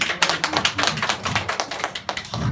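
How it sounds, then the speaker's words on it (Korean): Brisk clapping from a congregation during a church lecture on Hebrews, many close hands striking in quick, uneven bursts that stay loud and busy from start to end. "박수 한번 쳐줍시다."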